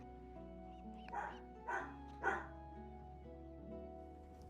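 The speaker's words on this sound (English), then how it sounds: "Can you guys hear my dog?" A dog barks three times in quick succession, fairly distant and moderately loud, over a quiet indoor background with a low steady hum.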